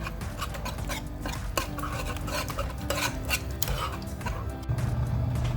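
Pudding mixture is stirred by hand in a bowl, with repeated scraping and clinking strokes of a utensil at a close, moderate level for several seconds, without talk.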